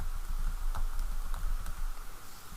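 Typing on a computer keyboard, a steady run of soft keystroke clicks with a few sharper taps, continuous over a low background hum.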